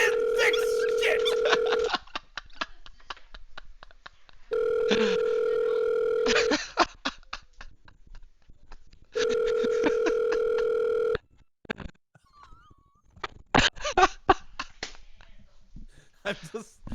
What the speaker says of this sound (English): the fucking phone is ringing